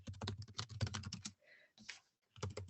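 Fingers tap on a computer keyboard in a quiet room, soft key clicks coming in quick bursts with a brief pause midway.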